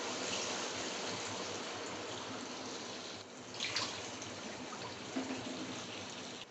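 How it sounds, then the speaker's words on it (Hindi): Water pours from a steel glass into a pot of kofta pulao, a steady, even rushing stream heard alone, with slight surges near the end. "अब मैं इसमें 2 गिलास पानी डालूंगी।"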